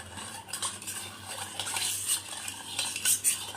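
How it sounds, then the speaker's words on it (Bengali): A spoon stirs black salt into a homemade watermelon ice cream mix in a bowl, soft repeated scraping and light clinks of metal against the dish, quiet and close with no talk. "এই একটু বিনুন মিশিয়ে দিচ্ছি"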